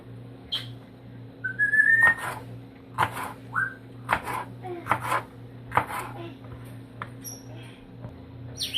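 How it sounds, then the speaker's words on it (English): A knife chops tomatoes on a board in a series of sharp, separate strikes at a moderate pace, close by, while a constant low hum runs underneath and faint whistles come through now and then. "My tomatoes, I try not to cut too small"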